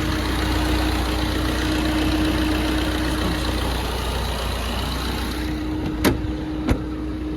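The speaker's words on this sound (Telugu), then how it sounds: "ఇంజిన్ కూడా చాలా స్మూత్ ఉంది." A 2019 Maruti Dzire ZDI+ automatic diesel car with about 77,000 km idles with a steady, smooth low hum and an even tone throughout. Two brief sharp clicks sound near the end, and no one speaks.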